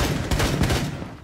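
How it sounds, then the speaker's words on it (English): Rapid bursts of gunfire in the tactical shooter Rainbow Six Siege, loud and close, with several sharp cracks running together in a short volley. "I hear a lot of shooting"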